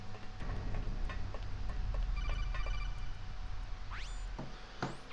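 A codec call rings in Metal Gear Solid: The Twin Snakes, with repeated electronic beeps and ticks and then rising chirp tones over a low game hum.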